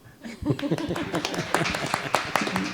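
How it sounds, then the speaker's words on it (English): A church congregation breaks into applause, scattered hand claps starting after a brief pause and quickly thickening into a lively, fairly close patter of many hands. "Let the applause happen now."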